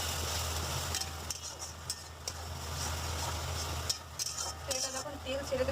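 A gentle, continuous sizzle of spice masala frying with a little water, with soft intermittent scraping of a spoon in the hot pan, fairly quiet under a steady background hum.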